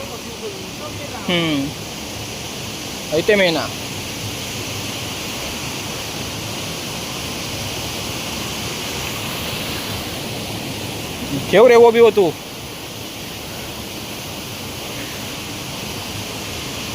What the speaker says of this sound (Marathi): पाणी वाहतं आहे ना